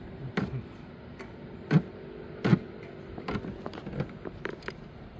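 Wrench ratcheting as it tightens a spark plug on a 2016 Toyota Venza, a series of faint, irregular clicks and ticks close by over quiet background hum.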